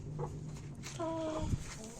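Faint Adler and Australorp chicken clucks come through a noisy, muffled background, with a brief clucking call in the middle and a voice murmuring nearby.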